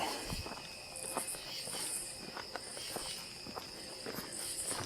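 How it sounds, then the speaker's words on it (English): Crickets chirp continuously in a high, steady drone with pulsing bursts along a river edge, while faint footsteps crunch irregularly nearby. "other than the crickets making a lot of noise"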